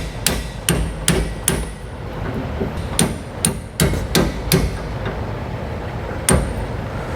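A hammer drives an old plastic bushing out of an RV trailer's equalizer on a 2022 Grand Design Imagine. About a dozen sharp metallic strikes ring out close by, in uneven bursts with short pauses between them.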